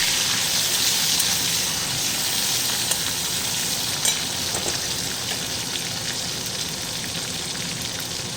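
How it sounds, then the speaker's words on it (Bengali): Chopped tomatoes sizzle steadily in a hot kadai while being stirred, a loud continuous frying hiss with occasional scrapes and no voices. "ভালোভাবে কড়াইতে টমেটোগুলো নাড়াচাড়া করে নিচ্ছি"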